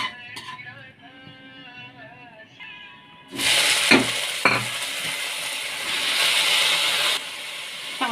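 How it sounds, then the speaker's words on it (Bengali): Dried red chillies fry in hot mustard oil, a loud steady sizzle bursting in after a few quiet seconds of low kitchen noise, with a couple of sharp clatters of a utensil against the pan. "শুকনো লঙ্কা দিয়েছি, সর্ষের তেল দিয়েছি।"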